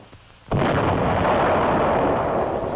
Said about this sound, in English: Third salvo, on target.